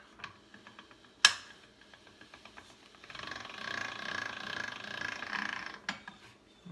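Rollers of a hand-cranked pasta machine turn with a soft, steady mechanical clicking and grinding, preceded by a sharp knock and a few light ticks; the rolling sound runs continuously for several seconds at moderate closeness, with no talk.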